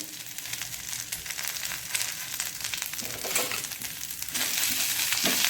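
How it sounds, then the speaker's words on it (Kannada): Frying in ghee over a low flame for a coastal Karnataka black-eyed pea and drumstick-leaf masala gravy, a continuous crackling sizzle with occasional stirring scrapes that grows slightly louder near the end. "ಸಣ್ಣ ಉರಿಯಲ್ಲಿ ಇದನ್ನು ಸ್ವಲ್ಪ ಫ್ರೈ ಮಾಡ್ಕೊಳ್ಬೇಕು."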